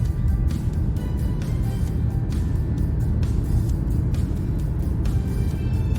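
Cars driving past on a downtown road in Fort McMurray in winter, a steady loud rush of traffic noise with repeated passing swooshes, heard from inside a moving vehicle.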